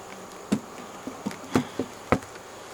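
Honey bees hum faintly at an open beehive, with a few sharp knocks and taps of hive handling sounding up close.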